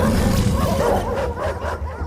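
Several dogs bark and yip loudly and close by in a short excited burst.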